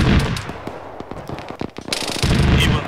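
Rapid machine-gun bursts and single shots crackle through a military video game battle, dense and close, with a short lull before a heavy burst of fire returns.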